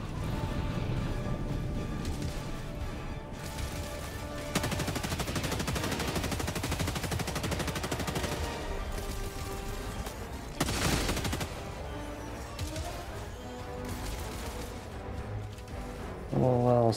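Sustained automatic gunfire in a Helldivers 2 battle against bots rattles on for many seconds, loud and close, with scattered heavier impacts and occasional radio-style voices.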